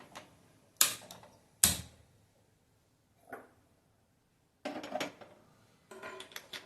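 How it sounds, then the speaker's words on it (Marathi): Several sharp metallic clanks as a small wok is set down on a gas stove, separated by pauses, with a quieter clatter of handling near the end. "आता इकडे गॅसवर मी छोटी कढई ठेवणार आहे."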